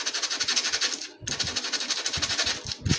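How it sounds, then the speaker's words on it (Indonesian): A plate is sanded with sandpaper in quick back-and-forth strokes, a close, gritty rasping that pauses briefly once and then carries on steadily. "Kita amplas dulu platnya"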